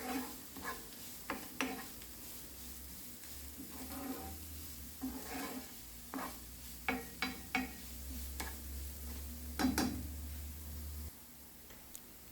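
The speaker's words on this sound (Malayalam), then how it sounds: "അതും കൂടി ഇതിലേക്കിട്ട് നല്ലോണം ഒന്ന് മൂപ്പിച്ചെടുക്കാം." Chopped green chillies, ginger and garlic sautéing in a pan, with a faint steady sizzle under intermittent scraping stirs and light clicks of a spoon against metal, close by and fairly quiet.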